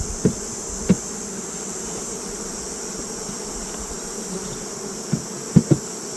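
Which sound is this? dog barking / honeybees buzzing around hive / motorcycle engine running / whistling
honeybees buzzing around hive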